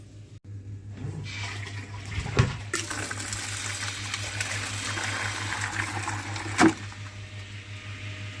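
Water pours steadily into a tank with a constant, close rushing flow that runs throughout, broken by a couple of brief knocks.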